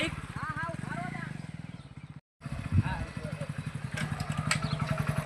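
A motorcycle engine runs with a steady pulsing putter under loud conversation between people, with a brief cut partway through.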